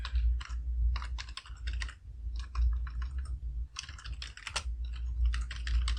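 Fingers type a command on a computer keyboard during a Laravel project setup, with quick bursts of close, crisp key clicks separated by brief pauses over a steady low hum.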